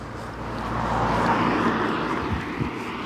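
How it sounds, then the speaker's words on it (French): Cars passing by outside, a broad steady rumble and whoosh swelling and fading over a few seconds, moderately loud and with no speech. "Donc vous inquiétez pas si vous entendez des voitures"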